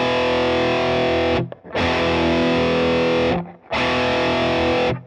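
Heavily distorted electric guitar in standard tuning strums three sustained power chords in sequence, each ringing out loud and close with brief gaps between, with no voices.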